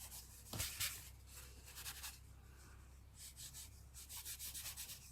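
Dry pastel is rubbed roughly onto paper to build a coloured background, heard as quiet, close, dry scratchy strokes, scattered at first and then settling into a quick, even back-and-forth rhythm.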